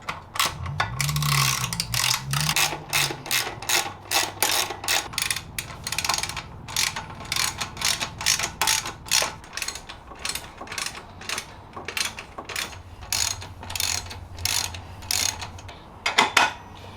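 A ratchet clicks steadily and quickly as it tightens the exhaust bolts on a 1989 Honda NX250 motorcycle, a close, continuous run of pawl ticks with brief pauses.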